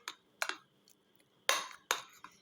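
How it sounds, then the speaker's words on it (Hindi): A spoon clinks against a bowl while lentil paste for dahi vada is mixed with salt and cumin, giving a few separate sharp taps and scrapes close by, with short quiet gaps between them. "और अब इसको अच्छी तरह मिक्स करते हैं।"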